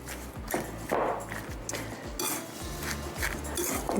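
Paprika mixture being stirred in a bowl, with repeated clinks and scrapes of utensil against the dish at a steady pace, close by and moderately loud.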